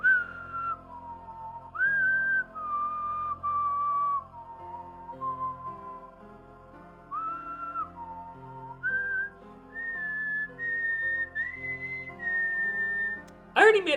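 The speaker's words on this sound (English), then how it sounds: "Again with the whistles, guys?" Human whistling carries a melodic tune in sustained, sliding notes with short pauses between phrases, close and clear with no speech.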